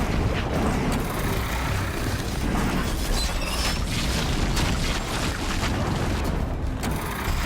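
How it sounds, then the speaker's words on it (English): Explosions in the video game Horizon Zero Dawn, a dense, sustained wall of rumbling booms and crackling blasts that stays loud and steady throughout, with mechanical clatter mixed in. "An explosion."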